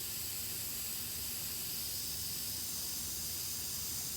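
An airbrush sprays paint onto a car license plate while an eagle's feathers are being painted, giving off a steady, even hiss with no pauses and no voices.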